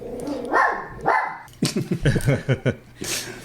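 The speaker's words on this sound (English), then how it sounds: "Dogs in the background." Dogs bark in the background, a few separate woofs early on and then a quick run of sharp barks and yips, fairly prominent for a moment.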